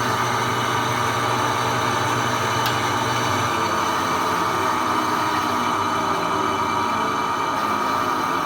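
Washing machine on its spin cycle with a worn motor bearing, giving a steady, loud mechanical drone and hum that runs unbroken and close throughout.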